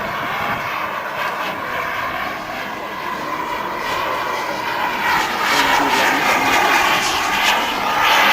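A turbine-powered radio-controlled model jet whines and roars steadily overhead at a model jet meeting, a broad rushing drone that grows slightly louder toward the end.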